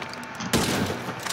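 A heavy sniper rifle in GTA V fires at an armored car, delivering a single sharp, loud blast with a booming impact that rings out and decays slowly.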